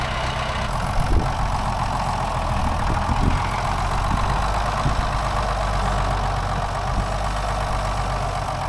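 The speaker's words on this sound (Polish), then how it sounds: "Uwielbiam ten traktor, to jest coś wspaniałego" A tractor engine idles steadily close by on a farm during potato planting in Kujawy, Poland, a constant low chugging rumble with slight knocking, no one speaking.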